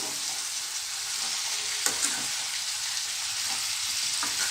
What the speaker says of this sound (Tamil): தக்காளி முருங்கைக்காய் வெங்காயம் எல்லாமே இந்த ஆயிலில் நல்லா பரவுற அளவுக்கு வதக்கி